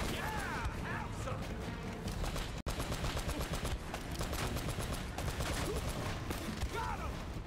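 Grenade launcher blasts and machine gun fire go off in Uncharted: Drake's Fortune, a dense, steady stream of rapid shots and impacts with a brief dropout near the middle, loud and continuous.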